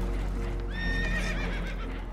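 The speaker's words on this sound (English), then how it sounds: "The horses are spooked, and we're taking on water." Spooked horses in Red Dead Redemption 2 give a loud, shrill whinny over a steady rumbling background, with a second quavering neigh following close behind and hoof clatter mixed in.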